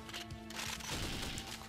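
Enemy gunfire in the video game James Bond 007: Nightfire, a short stretch of rapid overlapping shots in a rough, continuous burst over a humming game soundtrack, fairly quiet overall.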